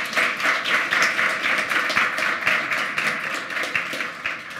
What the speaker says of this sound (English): another huge round of applause for Toni